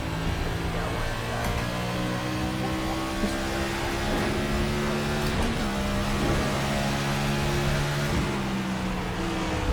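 Race car engine in iRacing at Phoenix, an IndyCar or NASCAR Cup car, droning steadily with sustained harmonic tones throughout, loud and continuous with faint talk underneath.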